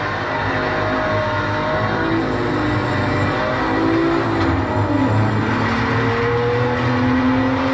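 A car engine at full throttle while drifting on the Nürburgring during a tourist drive, a loud, steady, droning roar with rising and falling tones that carries on throughout, with no voices.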